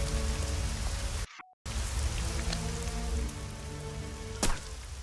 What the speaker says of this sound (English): I head outside into the rainy rain